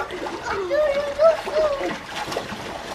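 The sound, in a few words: water splashing in pool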